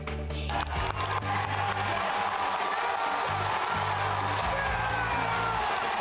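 A charged crowd at a Donald Trump rally takes up his call to fight, a dense, sustained roar of cheering and chanting over steady low tones, loud and continuous throughout.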